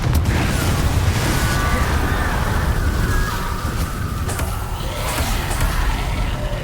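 A Confringo blasting spell goes off in Hogwarts Legacy, a dense roaring burst of fiery explosion noise that sustains loudly and close, layered over game music and effects with no talking.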